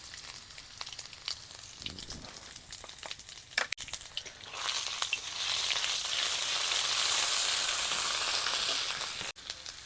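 Garlic paste and black cumin hit mustard oil with a soft crackle that swells into a loud, steady hiss partway through, marked by a couple of sharp clicks.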